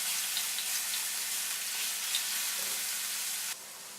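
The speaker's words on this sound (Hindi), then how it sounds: "पैन में मैंने 2 टेबलस्पून ऑयल डाला है। अब इसमें 1 टेबलस्पून लहसुन डालेंगे। इसको हल्का सा फ्राई करेंगे।" Chopped garlic fries in two tablespoons of oil in a pan, giving a continuous, even crackling hiss close by that drops slightly in level near the end.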